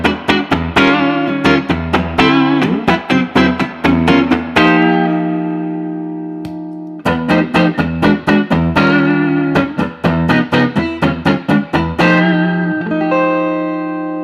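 An electric guitar played through a Fender blackface Super Reverb amp rings out in loud, clean strummed chords and picked notes, with two long sustained chords letting the reverb tail fade.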